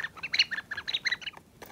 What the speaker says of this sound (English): And this one chirps when you shake it.